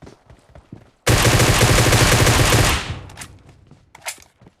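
Sustained automatic gunfire from PUBG Mobile erupts loudly for about two seconds, then gives way to quieter game sounds and a few scattered distant shots.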